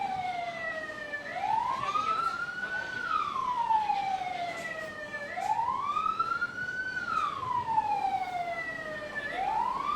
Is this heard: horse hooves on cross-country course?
no